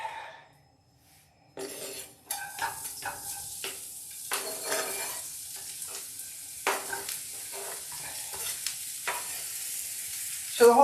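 Vegetables sizzle and hiss in a hot pan as they are stirred, with repeated scrapes and clinks of a utensil against the pan over a steady frying crackle, close and fairly loud after a quiet start.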